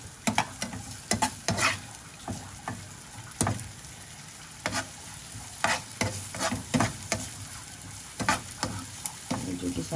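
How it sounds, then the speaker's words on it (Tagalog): Corned beef sautés in a hot pan, a low continuous sizzle punctuated by repeated sharp scrapes and knocks of a spatula stirring and tossing the meat, close and fairly loud. "Igisa na natin yan. Halo natin yan lahat."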